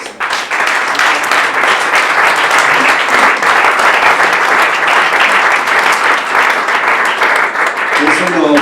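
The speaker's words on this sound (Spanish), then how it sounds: "Dale un aplauso a Dios." A church congregation breaks into sustained, dense applause, loud and steady for several seconds with a few voices mixed in, tapering slightly at the very end.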